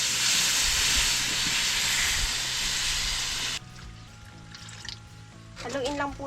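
Coconut milk poured into a pan of cooking cassava with melted sugar gives a loud, steady steaming hiss that cuts off abruptly, leaving quieter stirring scrapes and a voice talking near the end.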